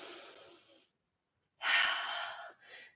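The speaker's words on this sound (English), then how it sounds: "Take a breath in." A deep breath drawn in during a yoga flow, close and clearly audible as a long airy inhale after a brief exhale and a short silence, with no speech.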